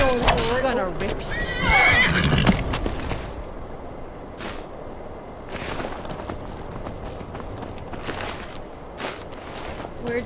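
A horse in the video game Skyrim lets out a loud, close neigh with a wavering whinny, followed by hoof clip-clops and scattered game sounds, with someone speaking over parts of it.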